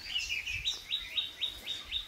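A red-whiskered bulbul in an aviary gives a quick series of bright, repeated chirps at a steady rhythm, fairly close and alone.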